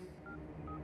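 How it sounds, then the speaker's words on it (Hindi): A telephone number is dialed, giving two brief touch-tone beeps against a low, steady background hum, quiet and close. "बेल निरंजन को मैं फोन लगा रहा हूँ"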